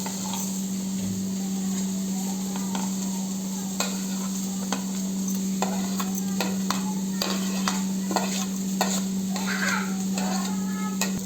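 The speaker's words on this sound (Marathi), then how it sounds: "आता हा आपला कांदा पण व्यवस्थित फ्राय झालाय" Onion fries in a pot for misal pav with a continuous close sizzle, broken by frequent sharp taps and scrapes of a spoon stirring against the pot. No voices.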